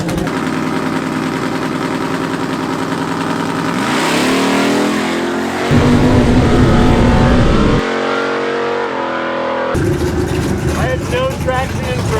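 Budget-built turbo Honda Civic drag car launching down the drag strip, a loud engine holding steady, then revving hard and rising through gear changes, briefly dropping away before surging again, close and dominant throughout.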